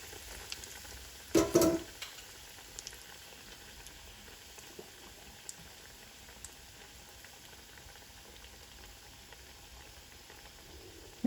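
Chicken bread rolls deep frying in hot oil, a steady soft bubbling sizzle heard up close and alone, with a brief clatter near the start.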